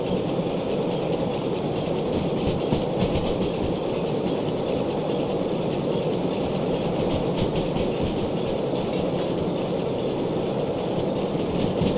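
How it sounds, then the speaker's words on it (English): A steam locomotive in the Derail Valley train simulator rolls along the rails with a continuous, loud, broadband rumble and faint rhythmic clatter, steady throughout with no voices. "I'm slowly learning how to control a steam train."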